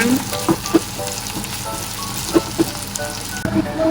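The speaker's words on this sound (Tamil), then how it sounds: "உருளைக்கிழங்கையும் போட்டு இதோட மிக்ஸ் பண்ணி கொஞ்சம் பொறிய விட போகிறேன்" Potatoes and onions frying together in a pan for a prawn curry, a steady close sizzle and crackle with a few soft knocks of a spatula, no talk.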